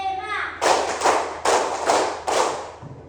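A class of primary school children claps in a counted routine, four loud synchronized bursts in steady rhythm, close and filling the room, with a voice briefly before them.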